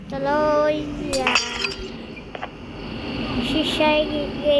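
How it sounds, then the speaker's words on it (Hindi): Glass clinks and shatters in the video game Garten of Banban II, a bright tinkling crash that rings close over game sounds while someone talks over it. "शीशा गिर गई"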